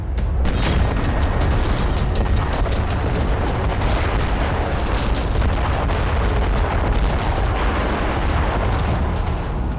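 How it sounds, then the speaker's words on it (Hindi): A massive, continuous roar of bunker buster bomb explosions from an Israeli strike, loud and close, with sharp cracks and booming blasts layered over a dense rumbling wall of sound. "इजराइल का यह विस्फोट नसरल्लाह पर हुए हमले से भी बड़ा और विध्वंसक था"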